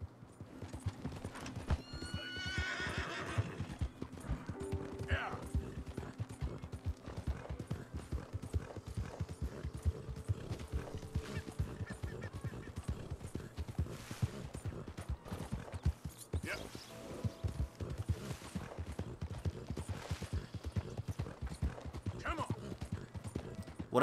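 A horse's hooves clip-clop steadily in Red Dead Redemption II, a regular trotting beat running the whole time with an occasional whinny and some background ambience.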